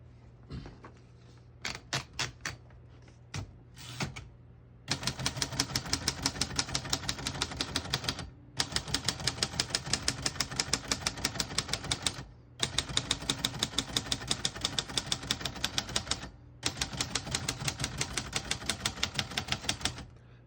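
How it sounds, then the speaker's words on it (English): Keys clacking on a 1956 Royal Quiet De Luxe portable typewriter, a few scattered strokes at first and then long fast runs of sharp, even typing broken by short pauses, close and clear with no voices. "As you can see, all the keys type nice and none of them skip or stick."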